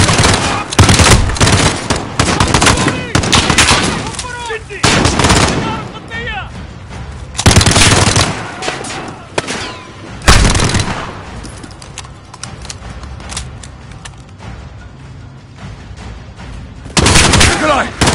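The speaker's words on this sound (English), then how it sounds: "The gunshots, of course." Gunfire during a Call of Duty campaign mission: loud, repeated bursts of shots and heavy blasts come in waves, with shouted voices mixed in under the firing.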